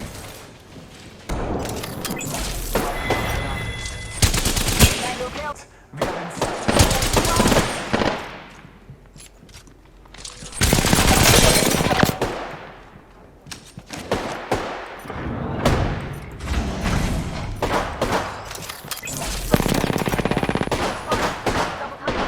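Gunfire in a first-person shooter video game: repeated loud bursts of automatic fire and single shots in irregular clusters, with brief pauses between volleys.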